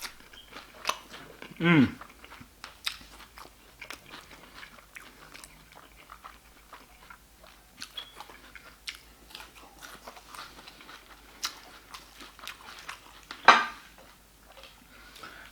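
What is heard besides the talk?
crunchy salad being bitten and chewed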